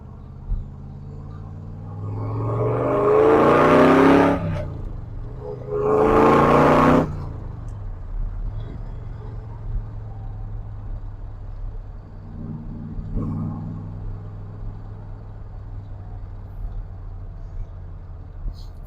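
A 1966 Chevrolet Corvette with a 327 cubic-inch, 300 hp V8 pulls away, giving two loud, rising acceleration bursts followed by a lower rumbling cruise with a brief later swell.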